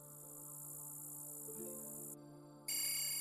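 A phone rings in Infamous: Second Son, a synthetic tone sounding alone and fairly quiet, then shifting into a brighter, louder ringing pattern near the end.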